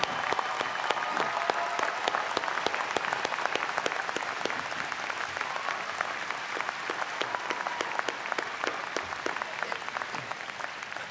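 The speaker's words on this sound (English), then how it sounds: "let us give you a round of applause." Sustained applause from a large crowd at a college engineering graduation ceremony, dense steady clapping that holds at an even level throughout without letup.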